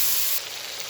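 Spice paste frying in a pan hisses sharply as water is added, a loud burst of steamy sizzle that drops to a softer hiss within a second.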